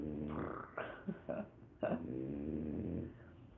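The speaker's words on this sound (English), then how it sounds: "Listen to this dog." Dog snuffling and snorting up close, low rough breathy grunts with a few sharp bursts, fairly faint and heard alone.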